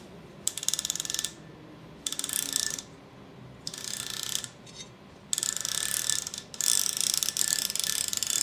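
Swivel base of a desk phone holder being turned, giving off bursts of rapid, fine ratcheting clicks. Each burst lasts about a second between short pauses, close and crisp with no speech.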